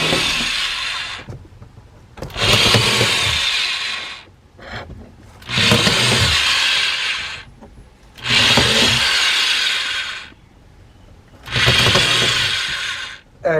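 Drill boring holes into a car headliner for star lights, four loud bursts of roughly two seconds each, separated by quieter gaps with faint handling noise.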